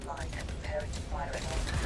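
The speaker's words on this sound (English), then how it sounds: "And there goes the cannons." Ship cannons fire during a naval battle in a video game, three or four booming shots in quick succession, with a voice talking over them.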